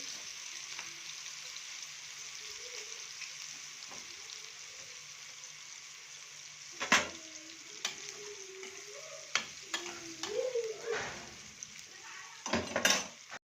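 Chopped onions fry in hot oil for Egyptian koshari with a steady, soft sizzle. Occasional clinks and scrapes from a spoon stirring in the pan punctuate it.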